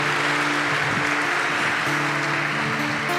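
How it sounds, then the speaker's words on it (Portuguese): A church congregation applauds during a Catholic priest's sermon, a steady, loud wash of many hands clapping throughout, with faint tones behind it. "dê uma salva de palmas ao nosso Senhor Jesus Cristo"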